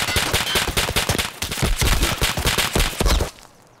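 Rapid bursts of gunfire crackle continuously for a few seconds, dense and loud, then cut off abruptly, in the video game Escape from Tarkov.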